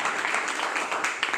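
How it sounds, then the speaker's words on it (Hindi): A hotel meeting audience claps loudly and continuously for a brief moment, a dense wash of applause with no pauses. "मैडम के लिए ताली बजा दीजिए एक बार जोरदार।"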